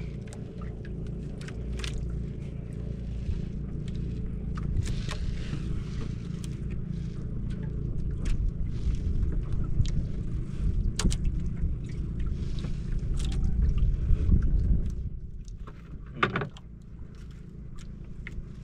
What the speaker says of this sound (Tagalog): Nagsiwi na yung mga bangka.